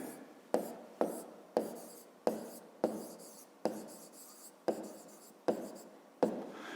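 Pen writing a list by hand on paper, a run of about ten short scratchy strokes in a regular rhythm, close and quiet, with no talking.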